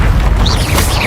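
A deep, booming blast from a Bombarda spell explosion in the Hogwarts Legacy video game, loud and close, rumbling for about a second with no talk over it.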